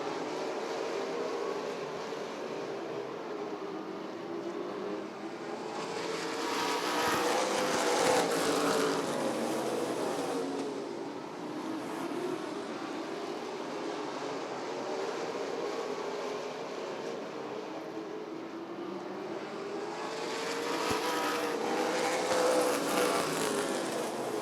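NASCAR late model race cars circle Rockford Speedway, a distant engine roar that swells twice as the pack passes and fades between, with no talk.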